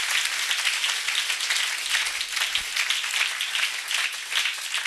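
A church congregation applauds in praise, steady dense clapping from many hands sustained throughout with no pause.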